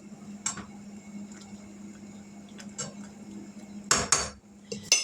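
Pasta is stirred in a pot for a Mexican-inspired casserole, with a few scattered metallic clinks and scrapes of a utensil against the pot over a low steady hum, the sharpest knocks clustered near the end.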